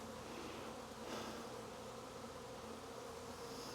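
Honey bee swarm buzzing around a hive, a dense, steady drone of many wings close by that continues without a break, with no talk.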